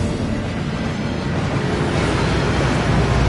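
A waterfall in the Hogwarts Legacy game roars in a steady, dense rush of water, loud and close, with no pauses for the whole stretch.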